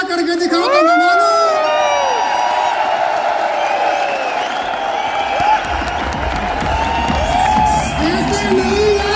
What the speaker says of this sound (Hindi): एक बार सारे लोग एक साथ मिलकर खूब सारी तालियां, खूब सारा हाउला करके दिखाओ